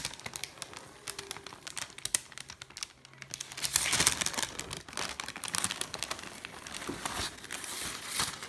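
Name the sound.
peeling greaseproof paper off rolled peppermint cream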